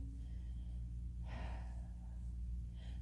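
A single audible breath, a short breathy exhale, stands out partway through a power yoga flow over a steady low background hum.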